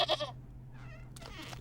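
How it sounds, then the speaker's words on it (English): A goat bleats in the video game Wytchwood with a few short, nasal calls separated by brief pauses, heard close and clear over a low background hum. "'Tis goat."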